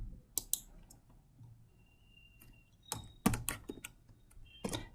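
Intermittent clicks and taps of a computer keyboard come in a few quick bursts separated by pauses, fairly close and clear, with no talking.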